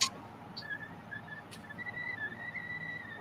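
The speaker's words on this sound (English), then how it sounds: "No, I can hear a whistling noise." A faint, thin whistling tone wavers in and out over quiet room noise, growing steadier and slightly higher toward the end.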